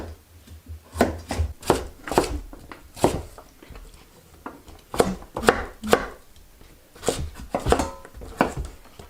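Knife chopping cauliflower and kohlrabi on a cutting board for pickling at a cabin, with sharp, close, irregular cuts that come in quick clusters and short pauses.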